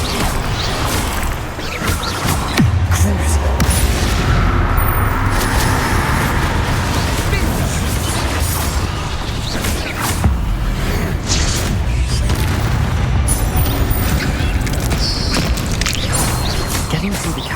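Spell blasts from Bombarda and Confringo in Hogwarts Legacy, set in a cavern: dense, continuous booming and crashing detonations with rumbling low end and scattered mechanical clatter, loud throughout with faint voice touches.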